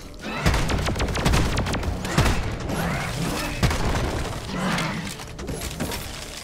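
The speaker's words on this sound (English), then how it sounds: "Alright, don't rapid fire the revolver." A revolver is rapid-fired in the video game Deep Rock Galactic, with several sharp, loud shots and clattering mechanical clicks over dense, continuous combat noise.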